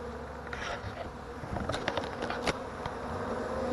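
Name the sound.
honey bees buzzing during package installation into hive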